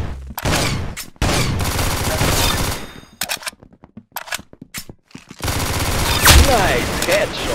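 Rapid bursts of gunfire in the Roblox game Arsenal, with dense automatic fire, a gap of scattered single shots in the middle, then more heavy firing; a voice speaks between the shots.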